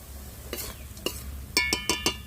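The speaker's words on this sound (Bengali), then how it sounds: "আর এবারে আমি শাকের সঙ্গে ভালো করে মিশিয়ে নিচ্ছি" Fried nuts are stirred into red amaranth greens in a wok, giving a few quick scraping and clinking strokes of a spatula against the pan over a faint sizzle, close by.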